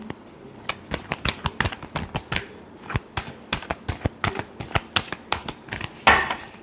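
Tarot cards being shuffled by hand for a Gemini weekly reading, close up: a steady run of crisp, irregular snaps and taps with a brief louder riffle near the end, and no voices.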